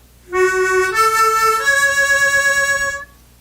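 A harmonica played with a deep mouth grip steps through a few clean, sustained single notes with no breathy side leak, close and alone.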